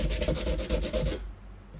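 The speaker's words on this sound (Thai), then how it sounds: "ตัวนี้ก็จะเป็นเศษที่เราตัดทิ้งนะครับเมื่อสักครู่นี้เดี๋ยวผมจะเอามาลบคมนะครับลบเหลี่ยมออกให้หมดเลย" A pallet wood offcut has its sharp edges sanded down by hand, giving several quick rhythmic rubbing strokes up close, rasping back and forth before stopping abruptly into quiet.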